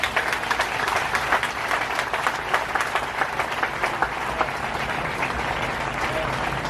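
A church congregation applauds in sustained, vigorous clapping, with dense sharp hand claps and a murmur of voices underneath at steady loudness.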